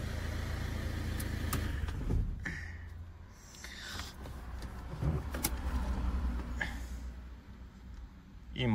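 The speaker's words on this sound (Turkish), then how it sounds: "O nedenle bir marş daha yapmak istiyorum." A Ford Fiesta's engine cranks and catches, then settles into a steady idle, with faint clicks and brief mechanical noises nearby.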